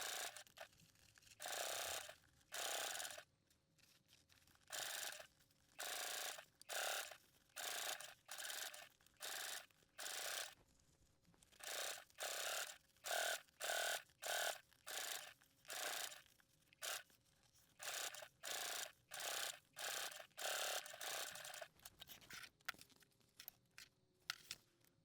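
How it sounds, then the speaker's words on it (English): A sewing machine top stitches a backpack in a long series of short, regular whirring bursts separated by brief pauses, close and clear with no talk. "So now I'm going to top stitch."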